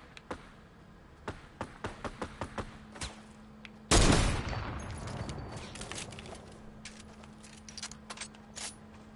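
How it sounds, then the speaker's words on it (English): Video game gunfire cracks in a quick series of sharp shots, followed by a loud burst of heavy fire that trails off into scattered pops. "They're shooting me."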